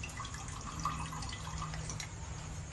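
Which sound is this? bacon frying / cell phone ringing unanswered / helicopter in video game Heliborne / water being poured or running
water being poured or running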